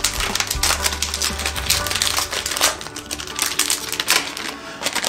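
Foil blind pack of Demon Slayer merchandise being torn open by hand, a dense run of crinkling, crackling packaging close up, steady throughout with no talk.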